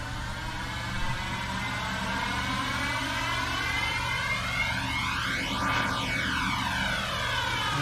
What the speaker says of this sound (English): Okay, starting engines. Started both of them.